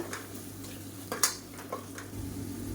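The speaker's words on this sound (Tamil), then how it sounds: "இதையும் சேர்த்து நல்லா வதக்கி விட்டுக்கலாம் நல்லா எண்ணெய் புரிஞ்சு வரணும் பச்சை வாசனை போக" Ginger-garlic paste sautéing in oil in a pan for curry, a soft low sizzle with a few light scrapes and taps of a spoon against the pan.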